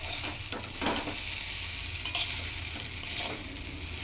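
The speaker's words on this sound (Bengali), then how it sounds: "ভালো করে মিক্স করে দিতে হবে।" Chowmein noodles are tossed and fried in a wok, making a dense, constant sizzle broken by a few quick scraping stirs of the spatula. It is close and alone, without voices.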